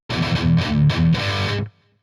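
A heavily distorted electric guitar plays a chugging, palm-muted riff from a song. A few quick choppy bursts come loud and up close, then cut off into silence.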